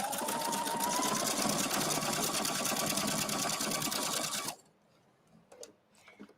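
A sewing machine stitches a paillette onto a zero-waste skirt, running in a fast, steady rapid-fire chatter for about four seconds before stopping abruptly, followed by a few faint handling clicks and rustles.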